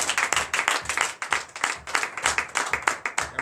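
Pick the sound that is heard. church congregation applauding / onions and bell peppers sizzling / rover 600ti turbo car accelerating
church congregation applauding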